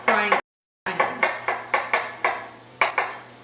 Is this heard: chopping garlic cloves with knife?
yes